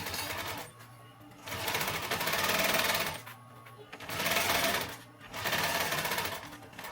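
A sewing machine stitches a pouch onto a backpack in three or four loud, close bursts of rapid mechanical whirring, separated by short pauses.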